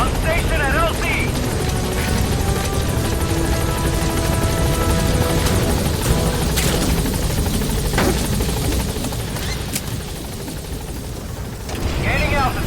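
A support helicopter in Metal Gear Solid V lifts off from a landing zone, its rotor and engine producing a loud continuous whir with a steady buzzing drone. Radio chatter and other game sounds run over it.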